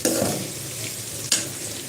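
Big onions, cut in two, frying in a pan, a continuous close sizzle with a scrape of stirring at the start and another sharp stir near the end.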